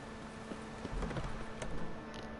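Hooves of a galloping horse clop steadily in The Witcher 3 video game, a soft, fairly distant patter over a low hum of game ambience, with no voices.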